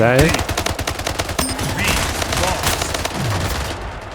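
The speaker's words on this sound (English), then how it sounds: "Why do I have my carbine rifle out?" Rapid carbine rifle fire in a video game, loud, dense bursts of shots running almost without pause, with a few sharper booms mixed in.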